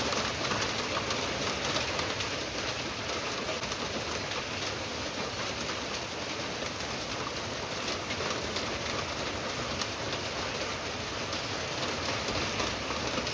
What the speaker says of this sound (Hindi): ओले पड़ रहे, ओले। इतनी तेज बारिश हो रही भाई साहब।